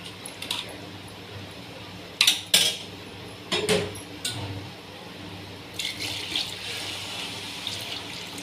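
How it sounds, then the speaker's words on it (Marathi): Water poured into a pot of washed rice in a home kitchen, with bursts of clinking utensils and splashing scattered among quieter stretches, then a softer steady pour near the end. "पाणी टाकणार आहे।"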